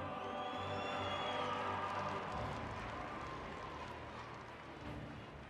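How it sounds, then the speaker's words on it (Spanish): A gymnastics crowd at the 2017 USANA open applauds and cheers a medal winner from Russia on parallel bars, a broad, sustained roar of clapping and voices in a large hall. "Otro aplauso para Nikita Nagorny."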